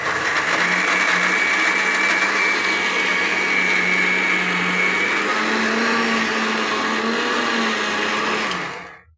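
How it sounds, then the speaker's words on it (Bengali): An electric mixer grinder whirs loud and steady, grinding coconut and poppy seeds with water into a paste, a droning motor whine that shifts pitch slightly before cutting off at the end. "জল দিয়ে বাটবো মিক্সিতে"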